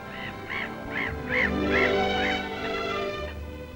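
A series of seagull calls, about eight harsh squawking cries in a steady rhythm, fairly close over a low background rumble, at Geiranger in 1956.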